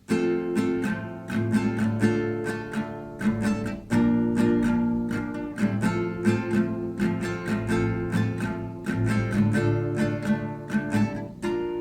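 Guitar chords are strummed in a repeating pattern through a song's verse, the sequence played twice over. Even, bright strokes continue with no pauses and no voices.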